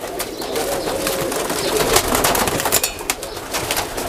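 Teddy breed pigeons coo in a dense, continuous chorus close by, with overlapping throaty calls and some wing flutter and no voices.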